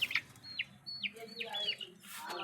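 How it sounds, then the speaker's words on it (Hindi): A rooster arriving to feed in a home pet enclosure gives short clucking calls and chirpy notes at close range, with several brief calls spread over a couple of seconds and no talking. "ये देखें, ये मुर्गा अभी से ही आ गया खाने।"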